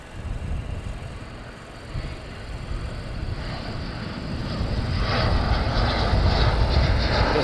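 A military jet approaching RAF Lakenheath makes a distant roar that slowly swells and grows louder, heard alone without talk.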